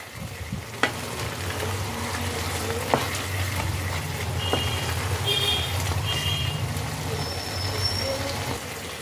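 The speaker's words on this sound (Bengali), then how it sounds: "এইভাবে কিন্তু মাঝে মাঝে এটাকে নাড়তে হবে, তা না হলে নিচে লেগে যেতে পারে।" Carrot halwa of grated carrot simmering in milk is stirred in a pan, giving a steady soft sizzle and scraping with a few sharp clinks, over a low background rumble and faint high beeping tones.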